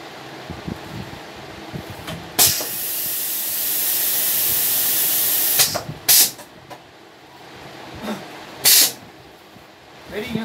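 A PSCTR15 lab-model tube sealing machine runs with a long, loud hiss of air that lasts several seconds, broken by sharp pneumatic bursts and clicks.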